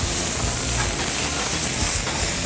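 Butter melting in a pan on the way to brown butter, giving a dense, steady hiss and sizzle that stays loud and unbroken throughout.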